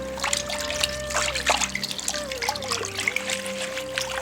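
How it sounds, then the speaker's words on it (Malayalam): Stinging nettle leaves are swished and dunked in a container of water, giving irregular trickles and small splashes over a steady tonal hum in the background. "ഇനി ഇത് വെള്ളത്തിൽ മുക്കി നല്ലപോലെ എടുക്കണം കഴുകിയിട്ട്"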